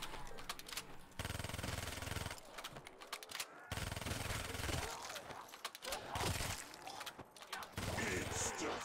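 Rapid automatic gunfire in Tunisia custom zombies, a video game, in long dense bursts separated by short pauses, loud and close throughout.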